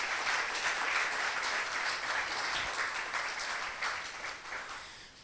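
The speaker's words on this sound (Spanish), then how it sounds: "¿Cuánto le dan un fuerte aplauso a Dios por lo hermoso y maravilloso que es?" Church congregation applause during a sermon, a steady wash of many hands clapping at moderate volume that tapers slightly over a few seconds.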